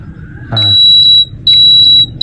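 A tester used on a wristwatch's circuit gives two clear, steady high-pitched beeps, each lasting under a second, as its probes touch the contacts. The beeps are close and loud over a quiet room.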